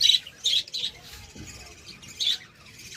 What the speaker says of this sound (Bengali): পুরো ঘরে পাখি ভরা।